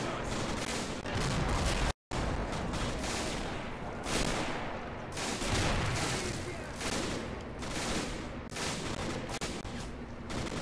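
Mortar and gunfire in the Arma military video game keep up continuous bursts of shots and heavier blasts, rolling on at a moderate, slightly distant level with one brief dropout near the start.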